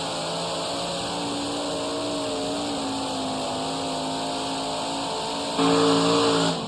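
Pulling tractor engines roar steadily at a tractor pull, a loud sustained drone with harmonic whine that swells louder near the end, heard alone without talk.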